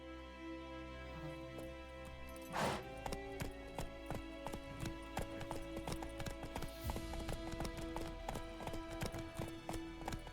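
Hooves of Roach, the horse in The Witcher 3, clip-clop in a steady walking rhythm, close and continuous, over game music and ambience, with one brief louder burst midway.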